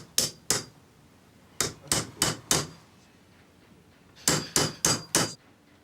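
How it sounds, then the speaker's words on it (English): Rivets hammered into metal on a restoration workbench: two sharp clanging blows, a pause, four evenly spaced strikes, then another run of four, each loud, close and ringing briefly. "it all needs riveting together"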